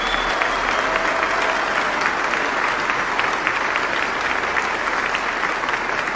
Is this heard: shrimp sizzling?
no